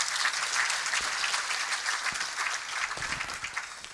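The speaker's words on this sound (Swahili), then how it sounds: "Tupigie Mungu makofi kidogo kweli." Audience clapping at a land title issuance ceremony held by a real estate company, a dense steady round of many hands applauding at moderate loudness, with a few louder individual claps standing out.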